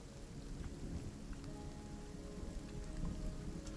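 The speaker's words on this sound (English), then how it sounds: "then you hear a loud crack of thunder" Thunder and rain play as a sound effect during a tabletop role-playing session: a continuous low rumble of thunder under a steady hiss of falling rain, fairly quiet, with no voices.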